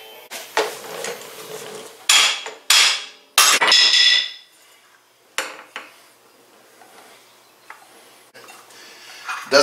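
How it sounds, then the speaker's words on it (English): Several sharp metallic hammer strikes on a Polaris RZR XP 1000 clutch ring out one after another, close and loud, each with a short clanging decay. "Get a hammer and give it a whack."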